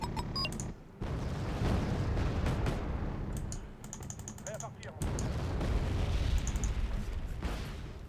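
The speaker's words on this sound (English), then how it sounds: "Enemy artillery." Distant artillery fire rumbles through a Wargame: Red Dragon battle, with broad booming bursts around one and five seconds over steady battlefield noise and scattered clicks.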